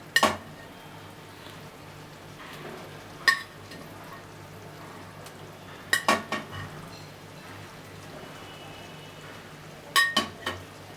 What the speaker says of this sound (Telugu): నేను ఎగ్స్ వేస్తున్నాను.